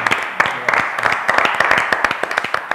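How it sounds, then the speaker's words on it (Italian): A small crowd claps with scattered, uneven hand claps close by, with a voice faintly mixed in. "Facciamo anche l'applauso."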